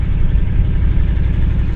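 Big engine of a heavy vehicle idling up close, a loud, low, steady rumble with a regular throbbing pulse and no talking over it.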